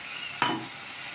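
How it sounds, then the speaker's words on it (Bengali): A single short spoon scrape against a bowl while stirring ground cumin, sambar powder, turmeric, coriander and chili powder with a little water, close over a faint steady background hiss. "এখন আমি এটা একটু জল দিয়ে একটু গুলে নিচ্ছি।"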